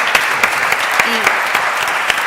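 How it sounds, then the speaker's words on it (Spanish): Brief audience applause at a film-shooting event in Teruel: scattered claps over a hall's hubbub, with a short vocal sound in the middle. "Un aplauso."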